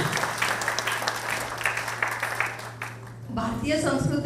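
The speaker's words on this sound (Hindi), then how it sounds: "आप सभी मेंबर्स का जोरदार तालियां" Applause from members gathered at an annual day celebration, a thick patter of clapping that fades out as a voice begins speaking over a low hum.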